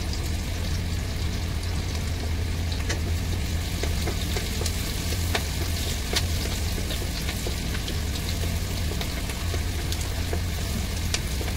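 Okra with chili frying in a pan for masala bhindi, a steady dense sizzle running throughout with occasional sharper crackles and pops, close and fairly loud with no voices.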